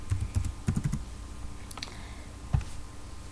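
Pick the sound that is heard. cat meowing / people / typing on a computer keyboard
typing on a computer keyboard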